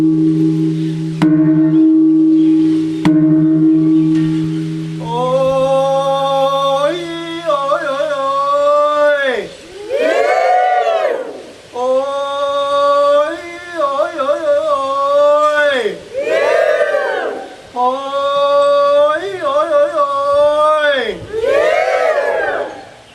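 Thai ceremonial crowd gathered for a royal worship rite, roaring three long victory cheers together, with resonant gong strikes at the start, each cheer swelling loud and rising in pitch before falling away.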